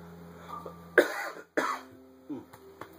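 A man coughs a few times in short, harsh bursts close to the mic, with a brief pause between them and a quieter throat-clearing sound trailing after, while he recovers from a recent cold.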